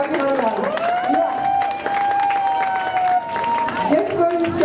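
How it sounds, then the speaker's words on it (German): Audience at a German talk event on gynaecology and professional politics breaks into steady, dense applause, with a sustained whooping voice riding over the clapping throughout. "Ein Applaus für Dagmar Lahr."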